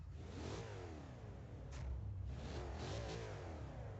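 Rear-wheel-drive car in Forza Horizon 3 with its engine running and revving, a steady loud mid-pitched drone that swells in a couple of throttle blips, heard alone.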